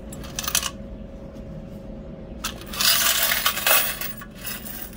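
Coins collected from a vending machine jingle and scrape in two bursts of metallic clinking, a short one early and a longer, louder one later, over a low steady background hum.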